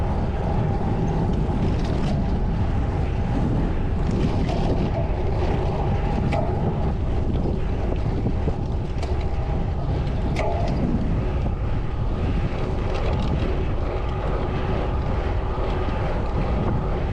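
Strong westerly headwind of about 5-6 m/s buffets the microphone during an 80 km gravel bike race, a loud, steady roar with gusty swells throughout and no talking.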